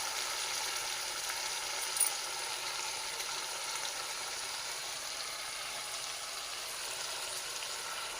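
Billalu dumplings go into a pot of simmering pulusu stew, giving off a soft, even bubbling and sizzling hiss that stays steady and fairly quiet, with one small clink partway through.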